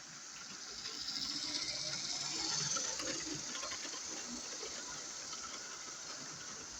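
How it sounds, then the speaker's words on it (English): A Lima BR Class 50 model locomotive running along the track, a faint continuous mechanical whirr and rattle that swells slightly midway and then holds steady, with no talking. "let's get this loco running"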